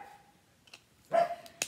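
Dogs bark in a short burst outdoors while someone gardens, with a single whine-like tone followed by a couple of sharp barks near the end.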